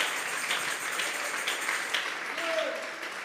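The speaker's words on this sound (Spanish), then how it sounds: "Vamos a regalarle ofrenda de palmas al Dios de la gloria." A church congregation claps together in sustained applause during a Spanish-language sermon. The clapping is broad and steady, with a wash of crowd noise and no speech on top of it.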